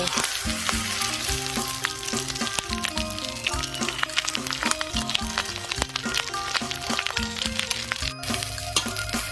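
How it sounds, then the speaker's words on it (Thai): Fermented fish roe frying in hot oil gives a loud, steady sizzle and crackle with scattered pops, close up and continuous throughout, with no voices. "ทอดส้มไข่ปลาเรานะคะ นี่เหลืองเลย"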